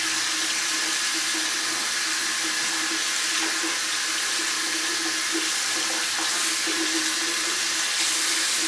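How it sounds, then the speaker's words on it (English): Tap water runs steadily into a sink to rinse out the base of a Kanger vape tank, a loud continuous hiss and splash without pause. "turn on your hot water, cold water, it doesn't matter, and just rinse it out real good"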